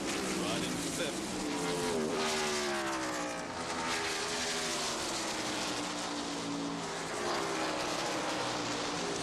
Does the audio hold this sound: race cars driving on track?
yes